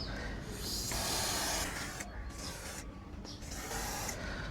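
Rubber protectant sprayed from an aerosol can onto car rubber parts such as hoses and bushes, giving close, steady hissing bursts with short pauses between them.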